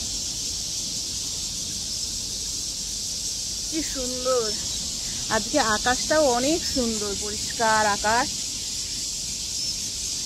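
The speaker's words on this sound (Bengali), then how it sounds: "ঝিঝি পোকার ডাক শোনা যাচ্ছে" On a mountain beside a Buddhist temple in Taiwan, crickets chirp in a dense, unbroken high-pitched drone that runs the whole time, while a person speaks briefly over it.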